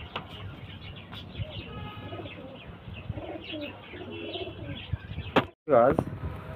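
A pair of Giribaz pigeons coo softly among faint chirps and background murmur, with a sudden louder burst of cooing near the end.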